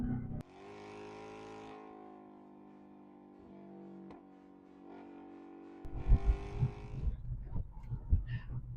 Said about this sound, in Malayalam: നമ്മൾ വണ്ടിയുടെ സൗണ്ട് ഒന്ന് നോക്കാം.